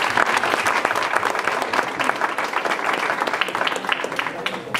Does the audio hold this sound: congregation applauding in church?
yes